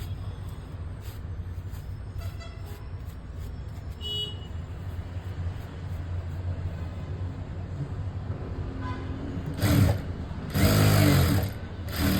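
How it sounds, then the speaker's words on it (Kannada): A sewing machine stitching a blouse, a steady mechanical whir running throughout, with louder stitching bursts near the end and no voices. "ಹಿಂಗೆ ಒಂದು ಸ್ಟಿಚ್ಚನ್ನು ಹಾಕ್ಕೊಳ್ಳಿ"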